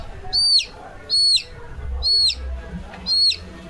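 A crow calls repeatedly near a chicken outdoors, four evenly spaced harsh caws sounding close and clear over quiet low background noise.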